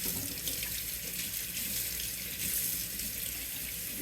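A cutting board is rinsed under a running kitchen tap, a steady close splashing rush of water into the sink with slight shifts as the board moves, without speech.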